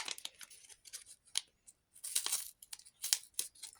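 Crisp crinkling and tearing of a paper packet being opened, in short irregular bursts close to the microphone.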